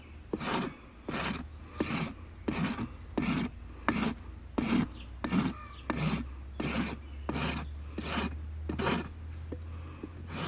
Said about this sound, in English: see how my rasp is angled? Just kind of straight from my shoulder, straight across.